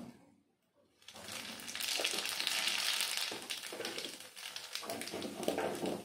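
Nigella seeds (kalo jeere) dropped into hot oil in a Bengali kitchen start a steady, bright sizzle after a brief quiet moment, crackling continuously and fairly close with no talk.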